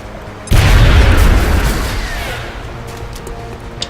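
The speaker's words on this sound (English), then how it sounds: "We're gonna drop an anti-personnel grenade right on top of these aliens." An anti-personnel grenade detonates on aliens in the strategy game Long War, a single loud, deep boom that bursts in suddenly and then rolls off into a long, fading rumble.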